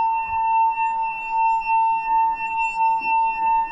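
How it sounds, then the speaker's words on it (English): A wet finger rubbed around the rim of a wine glass holding water makes it sing, a pure sustained ringing tone with gentle swells in loudness as the finger circles, close and alone. "dip your middle finger into your wine glass, and using the crease where you would normally bend it, rub that around the top of the glass"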